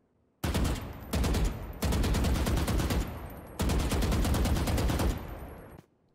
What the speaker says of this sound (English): This is a very good weapon to shoot in bursts.